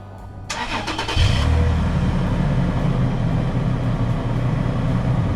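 A Toyota 4Runner fitted with a Magnaflow Overland exhaust cranks briefly, then catches and settles into a loud, steady idle rumble close by, with no voices.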